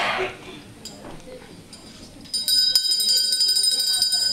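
A bell is rung to open a court hearing, a sustained bright ringing starting partway through and continuing loudly to the end, after a stretch of quieter room noise and a brief voice.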